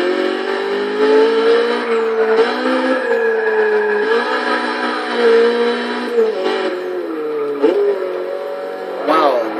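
A 1980 Fiat E23 Sport Spyder in Forza Motorsport 6 revs and pulls through gears with a buzzing, rising and falling engine note and brief tire squeal, steady and close, while someone talks over it.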